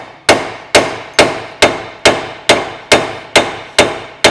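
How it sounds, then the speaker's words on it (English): Nine sharp metallic hammer blows on a Ford Fiesta Mk5 ball joint, struck at a steady, even rhythm, each ringing briefly before the next, loud and close with no talking. "You can get a couple of hits on this now if you can get your hammer in there."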